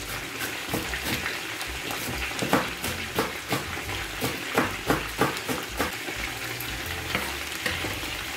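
Chicken legs fry in a pan, giving a steady, loud sizzle with repeated stirring scrapes and clicks throughout, close by and with no talk.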